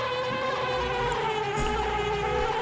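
Zubba bees in Banjo-Kazooie drone in a steady, layered hum that wavers in pitch as the insects hover close. Soft game sound effects come and go underneath.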